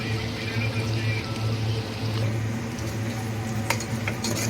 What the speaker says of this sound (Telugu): ఒకసారి బాగా కలుపుకొని ఉప్పు కారం మంచిగా ఫ్రై అయ్యాక